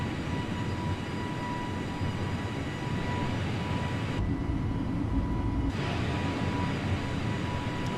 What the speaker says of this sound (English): So there's our takeoff.